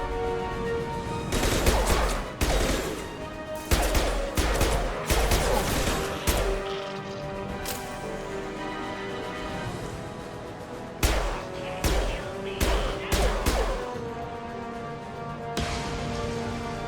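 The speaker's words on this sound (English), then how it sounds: "Firing an impact shot!" Impact shot gunfire in the Mass Effect 2 video game: repeated loud bursts of weapon fire and blasts in clusters, separated by brief lulls, with a little speech.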